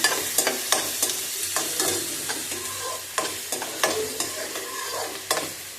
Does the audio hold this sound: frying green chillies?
yes